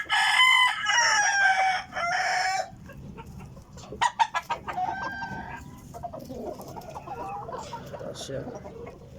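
Golden sweater backyard chickens crow loudly and repeatedly at close range, then cluck and squawk amid general farmyard bustle, with someone speaking briefly over the birds.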